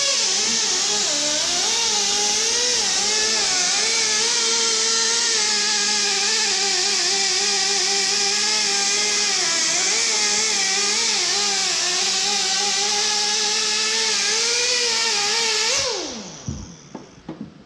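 Power tool shaving urethane window sealant off an Oldsmobile, a loud continuous whirring grind that wavers in pitch as it works, running steadily for about sixteen seconds before winding down, with no talking.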